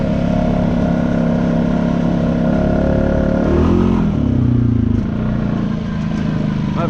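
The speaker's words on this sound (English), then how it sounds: "It turns these pretty good in the mud and on them." A stock-motored Honda Rancher ATV on 32-inch Aztex tires churns through mud in first gear, its engine droning loud and steady close by, with a brief rise and bog in revs midway.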